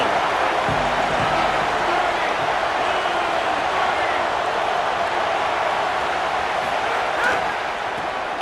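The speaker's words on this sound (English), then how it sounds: "This crowd ready to make its presence known" Dense, steady roar of a packed stadium crowd in EA Sports College Football 27, a constant wash of noise with a slight swell near the end, heard on its own without commentary.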